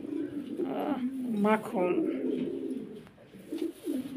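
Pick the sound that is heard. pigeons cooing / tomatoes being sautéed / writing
pigeons cooing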